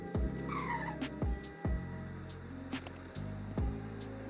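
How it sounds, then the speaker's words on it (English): A Mitsubishi Lancer Evolution X in a racing game accelerates hard: steady engine roar with repeated sharp gear-shift bursts and tire squeal, the rhythm climbing and dropping about every second, with no talking. "This thing is a rocket ship. The acceleration is crazy."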